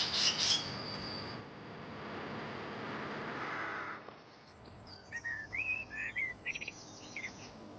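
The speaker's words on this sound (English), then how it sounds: "Listening to all the dawn chorus, the water birds down on the lake chatting away." Dawn chorus on a lakeshore: scattered bird whistles and chirps, some close and bright, others distant, over a soft steady wash of outdoor ambience, with water birds calling faintly.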